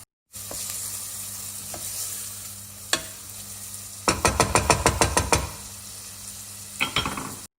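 Food sizzles steadily in a hot pan until translucent, and a quick series of about eight metallic clatters from stirring against the pan rings out near the middle, close and distinct.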